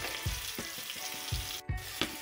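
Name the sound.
chopped green chillies frying and being stirred in oil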